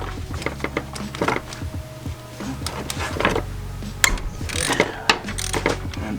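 A ratchet wrench clicks in quick repeated bursts while loosening bolts on a JDM Honda Type R, close and fairly loud, with short pauses between strokes and no talking.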